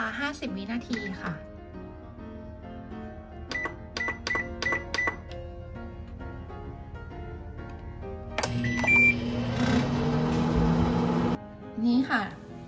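A microwave oven is set to 50 seconds to cook an onsen egg covered in water. Someone talks over a run of sharp keypad beeps, then a steady running hum starts and ends with a short beep.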